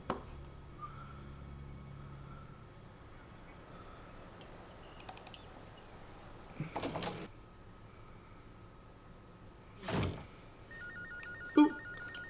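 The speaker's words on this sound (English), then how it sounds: "Ooh, phone call." A telephone rings in the Gray Matter point-and-click adventure game, giving a few short, faint electronic rings spaced several seconds apart over a quiet ambient hum, with occasional soft clicks between them.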